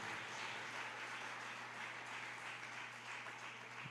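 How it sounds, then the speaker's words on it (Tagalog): Congregation clapping loudly at a church service, a dense steady wash of applause filling the room throughout, with no break or voices standing out. "pumalakpak ng malakas sa ating mahal na Panginoon"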